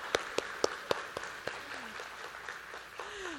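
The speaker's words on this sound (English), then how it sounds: "can we all have ourselves a big round of applause for a big participation for the 4 days?" A handful of sharp, separate hand claps ring out at a conference closing ceremony, fairly faint and scattered over a quiet room rather than building into full applause.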